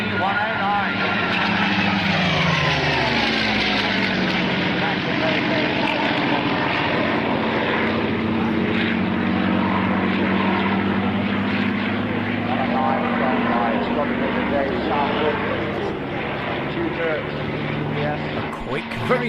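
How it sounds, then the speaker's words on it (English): A Messerschmitt ME-109 propeller fighter roars past in a continuous loud engine drone that holds steady with a shifting pitch throughout, with people talking under the noise. "And here is a sight, ME-109."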